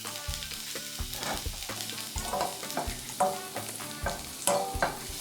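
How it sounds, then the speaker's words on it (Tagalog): Garlic sautéing in extra virgin olive oil in a pan for eggplant pasta alla Norma. A steady, close sizzle runs throughout, with irregular stirring scrapes and small crackles on top and no talking. "Sa pan, maglagay ng extra virgin olive oil. Isutay ang garlic hanggang lumabas na ang aroma nito."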